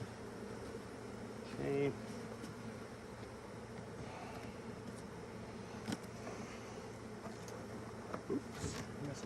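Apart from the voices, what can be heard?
honeybees buzzing around a hive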